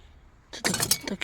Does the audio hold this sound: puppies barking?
no